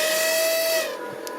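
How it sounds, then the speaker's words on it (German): Model hydraulic pump for a remote-controlled excavator running short of oil, giving a loud steady high whine with a sustained tonal pitch that drops and changes character after about a second. "achtet ihr mal auf das Geräusch der Pumpe, wenn die weniger Öl bekommt"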